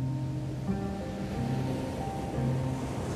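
Ocean waves and wind along the coast of Sal in Cape Verde make a steady, continuous wash of surf with a low rumble. The sound is loud and even, with no voices.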